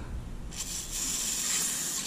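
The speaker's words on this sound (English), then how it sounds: "spray that with some of my penetrating oil here," An aerosol can of penetrating oil sprays in a steady, bright hiss lasting over a second, close by, onto an A.C. fan blade, preceded by a low rumble of background noise.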